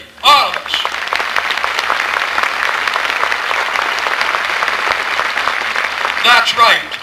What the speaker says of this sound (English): Let's give applause to Sun City, all of us.